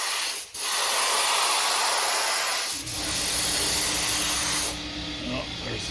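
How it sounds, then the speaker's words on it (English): Harbor Freight HVLP paint gun spraying paint on cabinets, a loud steady hiss in long bursts with brief breaks, and the air compressor humming underneath in the later part. "there's the compressor kicked on"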